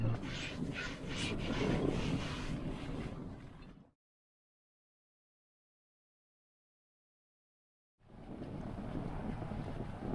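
Wind in 7 to 10 knots while sailing buffets the microphone in a rough, breathy roar, cutting to complete silence for a few seconds before the gusty rushing resumes.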